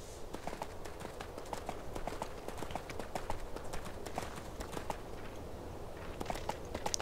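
A horse mount runs in the video game EverQuest 2, with a quiet, steady patter of clip-clopping hooves repeating in an even galloping rhythm from start to finish.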